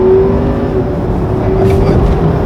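Mercedes S-Class driven hard in sport mode, a steady loud engine drone with a held tone and road roar filling the cabin, no voices over it.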